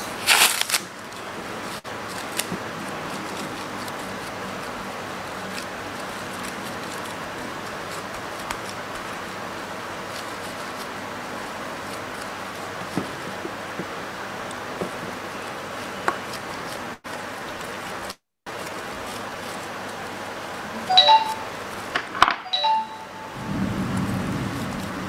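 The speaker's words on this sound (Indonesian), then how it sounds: "Ini pas rekaman lagi hujan ya, jadi suara hujannya kedengaran." Steady rain patters continuously in the background throughout, a constant soft hiss with no talk, broken by a few brief clicks and knocks near the end.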